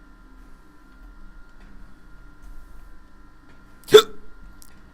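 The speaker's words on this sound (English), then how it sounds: "Why have I got the hiccups now?" A single sharp hiccup from a person bursts out once near the end of an otherwise quiet stretch, with only a faint low hum beneath it.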